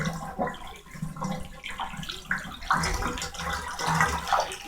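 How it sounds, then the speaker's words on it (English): Bathwater drains out of a tub holding a load of raw sheep wool, a steady gurgling wash of water under fluctuating splashy bursts, close and moderately loud with no talk. "you can let it drain for a really long time"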